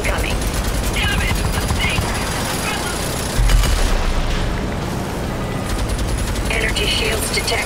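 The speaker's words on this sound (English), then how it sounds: "Danger! Enemy fire incoming!" Enemy gunfire and explosions in RAGE 2 combat: a dense, continuous barrage of shots with a heavier boom partway through, loud throughout, with game voices speaking over it.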